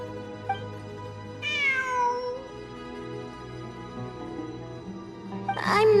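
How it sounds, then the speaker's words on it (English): A cat meows in the video game Genshin Impact, with one short call early on, a longer drawn-out meow, and a final rising cry, all over a sustained musical background. "It really is a cat."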